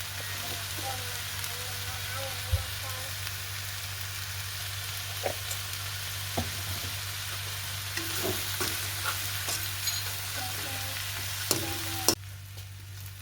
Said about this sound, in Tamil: எடுத்து வச்சுருக்க தேங்காய் பூவை இதோட சேர்த்துட்டு கொஞ்சம் மஞ்சள் தூளும் சேர்த்து அப்படியே மிக்ஸ் பண்ணி விட்டாச்சு.